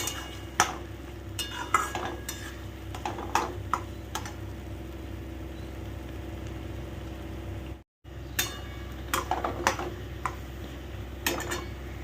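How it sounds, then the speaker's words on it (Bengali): Coconut, poppy seed and green chili paste being sautéed in a pan, with repeated scraping and clinking of a spatula against the pan at an irregular rhythm, close and fairly clear over a steady low background hum. "তো এবার এটা দিয়ে দিলাম, দিয়ে ভালো করে কষাতে থাকো।"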